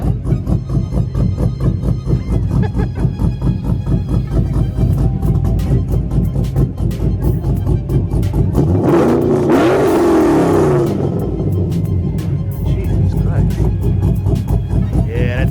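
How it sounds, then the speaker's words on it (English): A car's engine revved several times at an early-morning cars and coffee meet, loud and close, rising to a sharp peak mid-way before settling back to idle, with people talking nearby. "Let's get a couple revs in, man."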